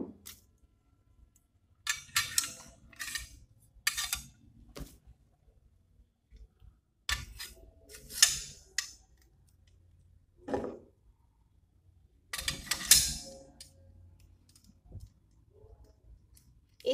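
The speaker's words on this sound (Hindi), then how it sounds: "जब मैं इन होलो सिलेंडर्स को इस ब्रास ट्यूब के अंदर डालती हूँ" Hollow metal cylinders slide into a brass tube in short bursts of close clicking and scraping, three separate clusters of metallic clinks with quiet pauses between them.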